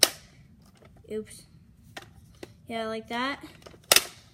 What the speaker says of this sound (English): You just put the ammo simply in like this